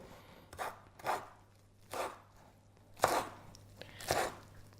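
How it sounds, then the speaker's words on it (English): Carrots, ginger and coriander being coarsely chopped for soup with a knife on a board, five distinct, unhurried thuds, fairly close and otherwise quiet. "Coarsely chopped because it's going to be all blended."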